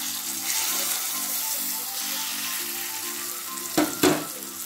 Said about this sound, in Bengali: ফোড়নটা ভাজা হয়ে গেছে, এবার পরিমাণ মতো নুন দিয়ে বিউলির ডাল বাটাটা দিয়ে দেব